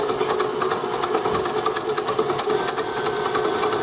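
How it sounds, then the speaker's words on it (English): A newer KitchenAid stand mixer whirs steadily nearby, an even motor hum with a rapid rattling whir from the whisk attachment. "You can see it's a newer mixer"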